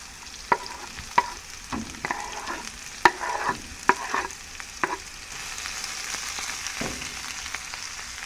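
Carrots, thyme and onion rings fry in a pan for Jamaican escovitch fish, a steady close sizzle broken by sharp clicks and scrapes of stirring every second or so, with no talking.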